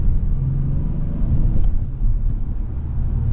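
Naturally aspirated V6 in a 2024 Acura MDX A-Spec pulling under acceleration, a steady low engine rumble and drone heard from inside the cabin, continuous with a slight swell midway.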